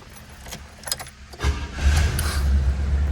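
A 1978 Cadillac Deville starts up after some keys jangle and clicks, its engine catching at once and settling into a steady, close, low idle rumble, with no talking.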